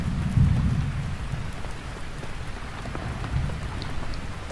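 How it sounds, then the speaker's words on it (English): Rain patters steadily on a camping tent while low thunder rumbles close by, swelling at the start and again later, with no voices. "it's raining and there's thunder sounds"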